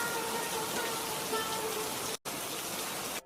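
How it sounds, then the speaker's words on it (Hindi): Heavy rain falls in a steady dense hiss, loud and constant, broken by two brief dropouts, with no voices. "इतनी तेज बारिश हो रही है"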